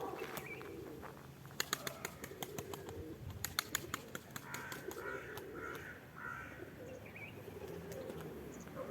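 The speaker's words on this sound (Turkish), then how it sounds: "Üç tek kuşumuz da uçuyor arkadaşlar." Pigeons take off and fly overhead, a mix of single birds and young ones, with bursts of sharp wing claps and flapping rising over a steady outdoor bird background, crows cawing among the calls.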